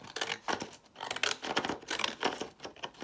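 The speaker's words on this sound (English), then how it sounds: "I wonder if I should just use my decal scissors" Small decal scissors snip through paper for a Christmas journal page, a quick run of close, crisp cuts in an uneven rhythm with no one speaking.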